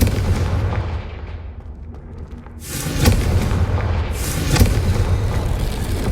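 A Confringo blasting spell explodes in Hogwarts Legacy, a heavy booming blast that bursts in suddenly after a quieter stretch, followed by a loud rumbling roar that stays dense and sustained to the end, with no talking.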